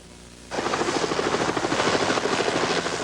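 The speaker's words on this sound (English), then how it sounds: "the first care flight helicopter appeared in the sky over Parkland Hospital" A Care Flight medical helicopter flying over Parkland Hospital comes in suddenly, its rotor thumping loud and rhythmic as it passes close overhead.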